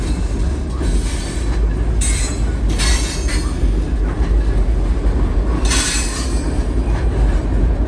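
A diesel freight train led by an SD40-2 locomotive rumbles past steadily and loud on a short line railroad, with a deep engine drone, rolling wheel noise and occasional high metallic squeals.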